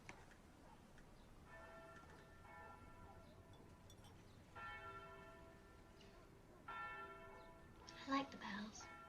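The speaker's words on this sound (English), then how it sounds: "I like the bells." Church bells ring softly in the distance, sustained tolls recurring in several swells, heard from indoors in a quiet hiding place, with faint ticking and light movement near the end.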